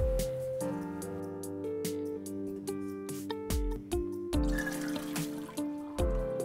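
Cooked soybeans draining through a strainer give a run of wet, sloshing splashes and clinks, water trickling and dripping in irregular bursts at close range with no one talking.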